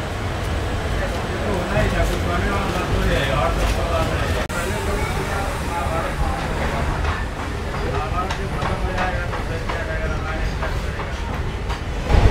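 The Bamanhat Intercity Express, made up of general coaches, runs out of Siliguri Junction, giving a steady, close rolling rumble that stays even for the whole stretch.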